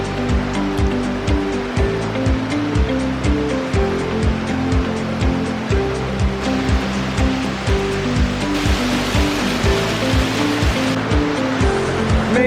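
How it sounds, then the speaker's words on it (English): Houghton Douglass Falls, a large 110-foot waterfall in Michigan, roars as a steady, loud, broadband rush of falling water, continuous and alone with no talk, with a low rhythmic mechanical hum beneath. "That is such a big waterfall."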